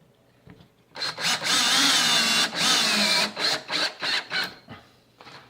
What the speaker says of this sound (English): Screw these into place.